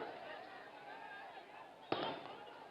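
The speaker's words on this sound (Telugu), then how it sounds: "ఎవరో టపాకాయలు బంద్ చేయండి." Firecrackers at a political rally in Telangana, with one sharp bang and a crackling burst standing out over a loud crowd and a speaker addressing it through a PA.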